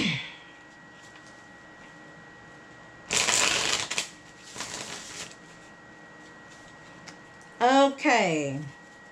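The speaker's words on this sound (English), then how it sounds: "Let me shuffle." Tarot cards are shuffled in two short, crisp riffling bursts, close and fairly loud against a quiet room, with a brief voice at the end.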